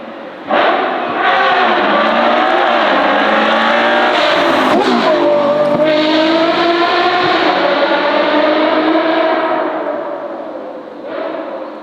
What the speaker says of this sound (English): just listen to the sound of this exhaust.